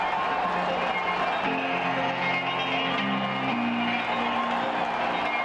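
Crowd at a World Series baseball game between the Mets and Yankees: a steady, dense roar of spectators fills the stadium without pause, with faint organ-like tones partway through.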